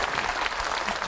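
An audience at a live podcast recording at a festival applauds with dense, steady clapping that fills the whole moment, loud and close.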